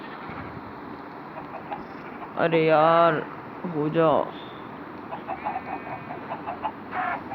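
Minecraft chickens clucking in the video game, two loud synthetic bursts of squawking over steady game background noise, with someone talking and muttering quietly around them.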